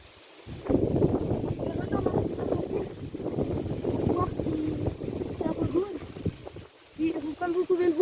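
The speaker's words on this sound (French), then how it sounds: "l'orage est en train de se lever, il y a du vent partout" Wind rushes around an outdoor carp-fishing spot by the water as a thunderstorm builds, a continuous low roar heard under someone talking for most of the time.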